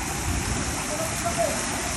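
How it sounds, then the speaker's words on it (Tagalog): Heavy rain during typhoon Carina pours in a loud, unbroken roar close by, dense and steady with no pauses. "Biglang lakas na naman kasi ng ulan."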